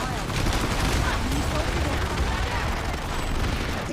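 A C4 charge detonates beneath an enemy soldier in the PlanetSide 2 video game, a sustained loud burst of explosive roar and crackling gunfire-like noise filling the whole moment, with voice callouts mixed underneath.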